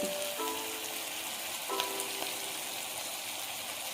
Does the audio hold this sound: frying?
yes